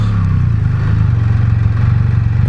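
A Can-Am Spyder F3 S three-wheeled motorcycle engine revs close by, a throaty steady drone with a pulsing low rumble that holds level throughout.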